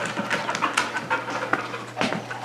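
A diabetic alert dog in training, a female named Keta, pants rapidly and close by in quick uneven bursts while she searches, with a few louder sniffing huffs.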